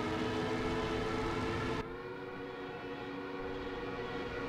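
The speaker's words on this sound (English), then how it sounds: "If you want to get that authentic Ju-87 siren sound, how do you do it?" The Ju-87 Stuka dive siren from the IL-2 Battle of Stalingrad flight simulator wails as a steady, loud, harmonic drone that drops slightly in level partway through, with no talking over it.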